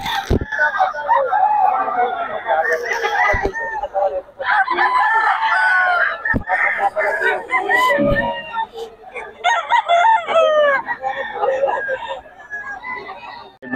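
Many chickens and roosters at a poultry seller's place crow and cluck almost continuously, close and loud, in overlapping calls broken by a few sharp knocks, with people talking through it.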